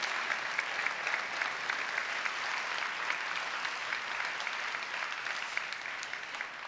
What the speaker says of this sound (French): Donc j'aimerais déjà pouvoir les applaudir toutes et tous, s'il vous plaît.